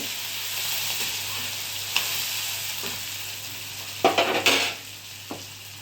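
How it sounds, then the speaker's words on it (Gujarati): Garlic fries in hot tempering oil with asafoetida and spices, a continuous close sizzling hiss with a few clinks and scrapes of a stirring spoon against the pan. "હવે એમાં હું હમણાં લસણ નાખીશ વઘારમાં."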